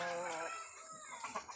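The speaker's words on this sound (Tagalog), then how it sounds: "Yan ang isang manok dyan sa labas" A chicken calls outside at a rural home in a short, clear burst of clucking and crowing, fairly close and loud with nothing else around it.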